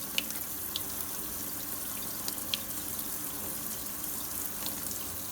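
Water spraying from a shower head onto salty soil in a heavy ceramic plant pot, a steady broad hiss of flowing water with a few faint clinks, no talking.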